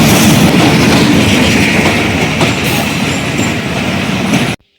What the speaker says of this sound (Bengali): ঠিক তখনই দূরে আলো দেখা গেল, খুলনা থেকে ছেড়ে আসা মহানন্দা ট্রেন।